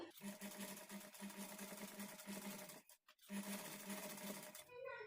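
A sewing machine stitches invisible thread piping around a curved edge, a faint steady whirring run that stops briefly near the middle, then resumes.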